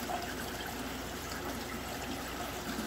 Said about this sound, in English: So I'm flowing a heck of a lot through this tank now.